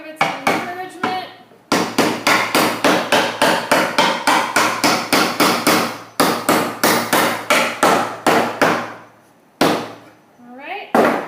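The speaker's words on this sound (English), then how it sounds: "you can actually use the table as your support as you're hammering this in" Steady hammer blows drive nails into a wooden beekeeping hive box braced on a table, a fast even series of sharp, loud knocks with short pauses and a brief voice at the end.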